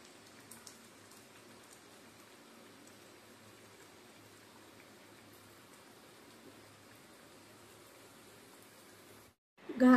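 Bottle gourd ghare frying in hot oil, a steady soft hiss and fine crackle that holds evenly throughout before cutting off abruptly into a brief louder noise at the very end.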